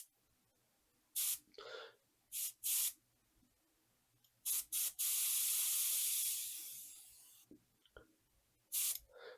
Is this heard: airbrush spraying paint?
yes